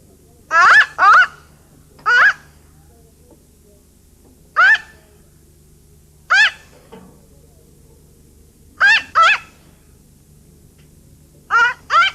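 A mynah bird gives a string of short, sharp squawking calls in irregular bursts, fairly close and clear against a quiet indoor background.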